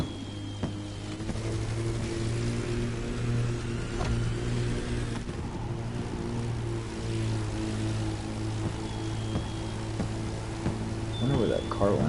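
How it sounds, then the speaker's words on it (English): A Red Bull race car's engine droning steadily at a car-versus-plane race, a sustained mid-distance hum with shifting pitch and a brief rise near the end. "I wonder where that car went. I hear it."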